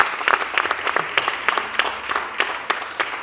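An audience at a talk on ethnology and anthropology applauds steadily, many hands clapping at moderate loudness with individual claps standing out in an uneven, continuous patter.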